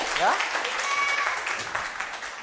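Brief applause from an audience watching a gospel skit, steady clapping lasting a couple of seconds with a voice heard over it.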